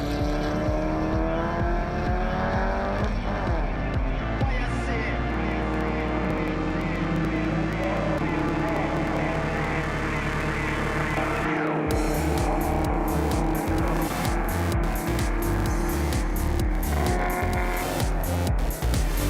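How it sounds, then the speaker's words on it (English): Vintage Datsun SS and Alfa Romeo GT Junior race cars battle on a circuit, their engines roaring loud and continuous. Revs rise and fall through gear changes, and a sharp shift in the engine note comes about two-thirds of the way through as the cars pass. "The Alfa runs wide but manages to hold a slight advantage ahead of the Datsun."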